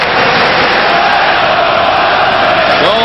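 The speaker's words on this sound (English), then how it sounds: "So the crowd chants, "Let's go Islanders."" Hockey fans in an arena roar and chant together in a dense, loud, sustained wall of voices that fills the whole moment.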